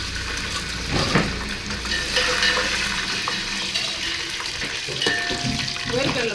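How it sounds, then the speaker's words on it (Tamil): Dried red chillies and peanuts fry in hot oil, a continuous close sizzle with occasional clinks and scrapes of stirring. "வேர்க்கடலை பார்த்தீங்கன்னா நல்லா வந்து எண்ணெயிலே பொன்னிறமாக பொரிஞ்சு வரணுங்க."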